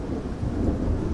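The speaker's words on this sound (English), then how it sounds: "woo, thunder, it's gonna be a good one" Low rumbling thunder during a storm, a steady, heavy roll over a brief span mixed with rain, fairly loud and alone without voices.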